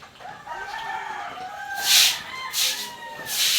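Hen clucking and calling nearby outdoors, a few bright short bursts rising toward the end over quiet background.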